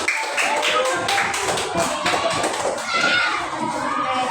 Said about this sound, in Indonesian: tepuk tangan untuk Asya dan juga Acak